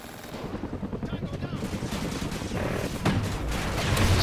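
Helicopter in Call of Duty Ghosts: a fast, steady rotor thump runs under constant gunfire and explosions throughout, loud and close, with players talking over it.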